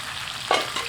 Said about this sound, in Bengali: মাংসের পিসগুলো মশলার সাথে একেবারে ভাজা ভাজা হয়ে গেছে